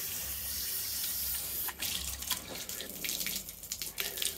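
Running water splashes and patters across a car panel coated with ceramic spray coating, starting after a quiet hiss and continuing in uneven bursts.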